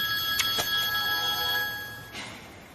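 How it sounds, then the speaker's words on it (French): A telephone rings with a steady electronic tone, sustained and fairly close, with a couple of faint clicks and no one speaking. "Décroche ton téléphone, allez."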